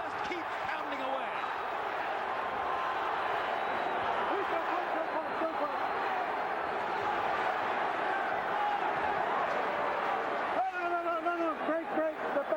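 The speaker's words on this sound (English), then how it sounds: "Overwhelmingly pro-Trinidad crowd trying to lift their man." A pro-Trinidad crowd at the Hopkins versus Trinidad boxing match keeps up a steady, dense roar of cheering throughout, with a commentator talking over the noise.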